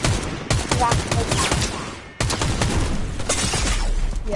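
Rapid bursts of assault rifle fire in a Fortnite match, loud and close, two sustained strings of cracking shots split by a brief pause.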